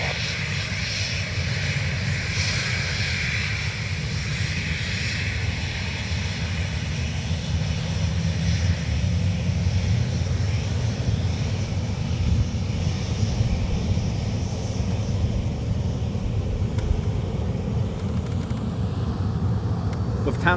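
A Lufthansa CityLine airliner takes off from the runway at Dublin Airport, a sustained engine roar holding steady across the whole stretch, fairly loud, with faint radio voices in the background.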